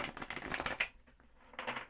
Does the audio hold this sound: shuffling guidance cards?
yes